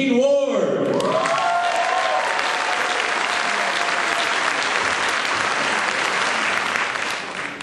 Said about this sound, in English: Put your hands together for Gene Ward.